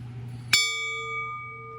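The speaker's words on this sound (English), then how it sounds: "That's the doorbell" A single bell strike from a shop doorbell that also serves as the bell on a pump jack trailer, a sharp clang at once fading into a long, ringing metallic sustain over a low steady hum.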